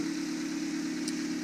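A car engine idling steadily under the hood during an alternator check, a constant low hum with slight vibration, close and unbroken, no voices.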